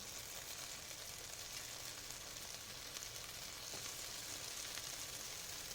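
Soybeans fry in a pan with tomatoes cooked down to a mush, giving a steady, close sizzle that continues evenly throughout with no talk.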